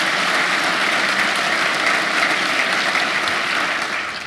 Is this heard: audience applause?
yes